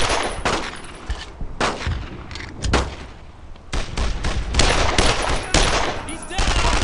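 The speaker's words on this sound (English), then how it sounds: "The army is firing on any flanker!" Repeated bursts of gunfire from a World War II squad shooter on PC, Brothers in Arms: Road to Hill 30, crackling loud and close in dense volleys with brief lulls between them.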